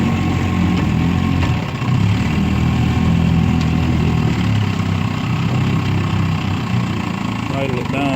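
A 1959 Johnson QD-20 10hp outboard motor idling on a pond, a steady loud low-pitched running drone throughout with slight wavering.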